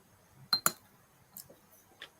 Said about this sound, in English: you don't bang your glass too much